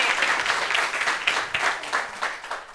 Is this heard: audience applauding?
yes